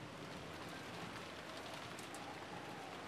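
Steady wind-driven rain pours without pause, a dense, even hiss of drops washing over everything at moderate level, with no voices.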